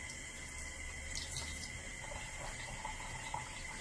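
Cold water runs steadily from a tap onto a cloth towel being soaked, a continuous close splashing hiss with a few soft drips and no talk.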